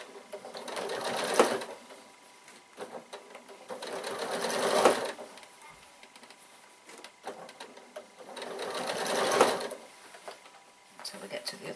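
A sewing machine runs in three sustained stitching bursts as piping is eased into a fabric bag. The close mechanical whir swells and fades between pauses, with quieter handling noise in the gaps.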